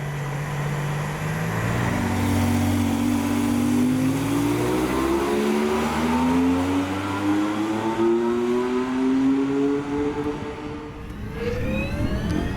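A Mercedes-AMG ONE in Strat 2 race mode revs hard and close, its engine note climbing steadily in pitch through a long, loud pull before easing back.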